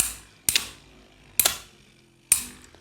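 Three sharp metallic clacks spaced about a second apart, each followed by a fading rattle, as Beyblade Metal Fight tops Twisted Tempo and Fang Leone collide in a small stadium.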